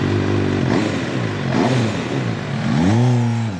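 An MV Agusta motorcycle engine revs hard with strong induction noise, its pitch rising and falling in repeated surges that climb again near the end, loud and close with no voices.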